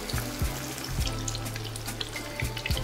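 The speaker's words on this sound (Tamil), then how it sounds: "ரெண்டு போட்டு ஃப்ரை பண்ணிட்டு இருக்கிறத மீதி ஃப்ரை பண்ணிக்கலாம் இப்போ ஒரு 1 நிமிஷத்துக்கு வந்து ஹை ஃப்ளேம்ல ஃப்ரை பண்ணிட்டு" Quail pieces deep-fry in hot oil over a high flame, giving a dense, steady sizzle with low bubbling pops throughout.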